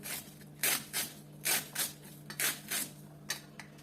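Fragrant taro being chopped into small pieces with a knife on a board, giving about ten crisp, evenly spaced cuts in a steady rhythm, close and clear against a quiet kitchen background.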